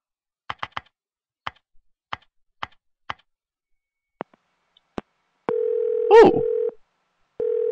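Telephone dialing in the video game Silent Hill 4: a series of sharp, separate button clicks, then a steady dial tone interrupted by a brief warbling sound, with the tone resuming at the end.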